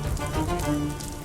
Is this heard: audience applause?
no